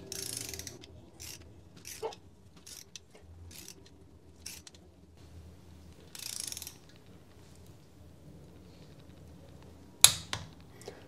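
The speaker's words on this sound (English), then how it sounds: "Then I'll just tighten it until I get to 30 foot-pounds." A wrench tightens a spring force bolt hanger to 30 foot-pounds, making short bursts of quiet ratcheting clicks with pauses between them, then a sharper, louder cluster of clicks near the end.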